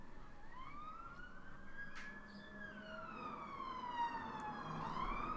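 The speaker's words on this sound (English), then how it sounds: "There's another police car going by." A police car siren wails as the vehicle drives past, a sweeping rising and falling tone that holds steady and stays fairly distant against a low background, with no speech.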